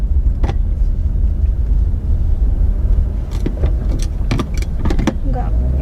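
Loud, steady low rumble of a car being driven, heard from inside the cabin, with occasional sharp clicks and rattles on top and people talking over it.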